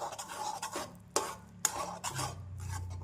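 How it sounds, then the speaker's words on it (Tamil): A spoon scrapes and stirs thick almond halwa mixed with saffron milk in a pan, giving a few rasping strokes with sharp clinks against the metal and a faint low hum underneath. "குங்குமப்பூ பாலும் பாதாமும் நன்றாக மிக்ஸ் ஆகும் வரை நாம் கிளறி கொண்டே இருக்கலாம்"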